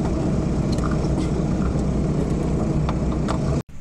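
Off-road vehicles revving together at a race start at Deva Offroad 2024, a dense, steady engine roar held loud and close for nearly four seconds before cutting out abruptly at the very end.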